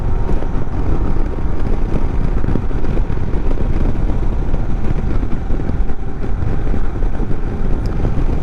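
An Indian Sport Chief cruiser motorcycle rides at almost 50 mph in fourth gear around 2,500 RPM, producing a steady low engine drone buried under loud, continuous wind rush.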